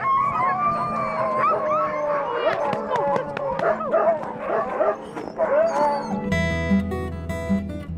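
Several sled huskies howl, yip and whimper together in a dense, overlapping chorus close by. Near the end the sound shifts to a low, steady hum.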